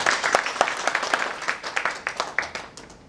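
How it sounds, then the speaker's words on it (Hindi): Audience applause for a speaker at an event, a run of uneven hand claps from a modest group, close and lively, tapering toward the end. "सर के लिए जोरदार तालियां।"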